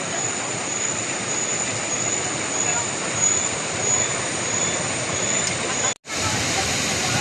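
Taytay Falls in Majayjay, Laguna, a mountain waterfall with clear, cold water, giving a loud, steady broadband rush of falling water throughout, briefly cut by a dropout near the end.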